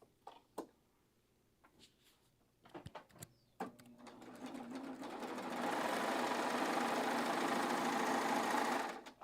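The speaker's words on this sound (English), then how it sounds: "It's the last Serger you'll honestly have to buy with an overlock cover stitch machine like this." A Baby Lock serger overlock machine sewing fabric: a few scattered clicks and taps, then the motor spins up into a loud, steady, rapid stitching drone that runs to the end, close by.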